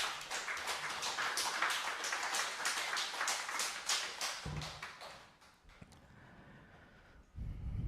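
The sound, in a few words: audience applause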